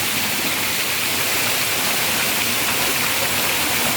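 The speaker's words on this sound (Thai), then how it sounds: "น้ำพุน้ำตก" An artificial waterfall fountain in a city butterfly park pours steadily, a dense, even rush of falling water that fills the whole stretch without pause.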